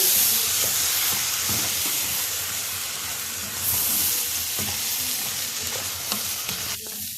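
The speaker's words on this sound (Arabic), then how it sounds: "اهم حاجه الرز يتشوح حلو جدا" Steady loud sizzling from a hot pan, with repeated scraping stirs as grains are tossed and pushed around, no voices.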